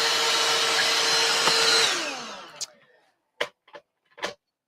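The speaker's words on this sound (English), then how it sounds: "And then we'll just do a quick little vacuum again." A small vacuum clears fabric scraps from a sewing table, roaring loudly for about two seconds before spinning down, followed by a few soft taps and clicks.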